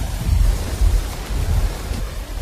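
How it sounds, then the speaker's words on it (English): Heavy tropical downpour during the North Queensland wet season, a dense, loud hiss of rain with deep rumbling thunder pulsing low underneath in several swells, no voices. "The rain falls hard."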